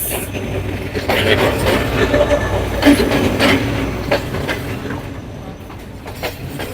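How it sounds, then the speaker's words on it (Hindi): The Hazara Express pulls into Daharki railway station in Pakistan, a loud nearby rumble of carriages with rhythmic wheel clatter and occasional squeals, steady and then easing off toward the end. "ये हज़ारा एक्सप्रेस आ गई है ट्रेन"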